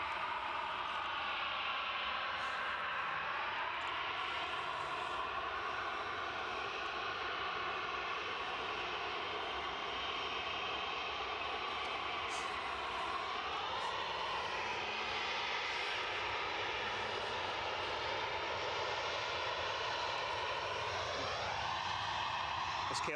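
A Boeing 737-700 jet at an airport gives a continuous engine roar with shifting whine tones that rise and bend over time, held steady and fairly near, with a voice talking faintly over it.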